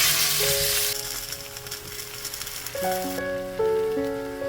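Food frying in a pan for a Bengali muri ghonto dish, a steady close sizzle and hiss running throughout, with sustained tonal hum lines rising over it in the second half.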